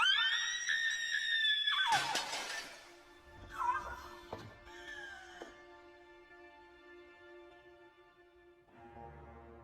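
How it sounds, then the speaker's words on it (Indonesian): A person screams hysterically in a dramatic scene, a high sharp wailing cry at the start followed by crashing and shattering noises, then quieter tonal sounds under a low background. "tiba-tiba saja menjerit histeris"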